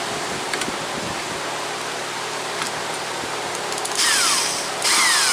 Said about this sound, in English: So, get my impact wrench back.